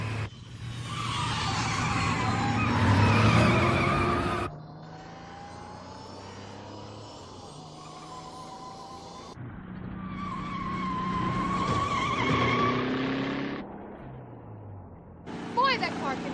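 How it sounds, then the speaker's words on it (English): Herbie, a race car in a final race, roars past at speed with screeching tire skids and whining engine passes that rise and fade in several bursts, mixed with other engine tones and background sounds. "Boy, that car can really move."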